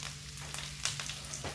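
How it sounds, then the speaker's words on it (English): Potatoes fry in a pan with a steady close sizzle, crackles and small spits popping up over the hiss. "Right, so we're just going to leave that frying about."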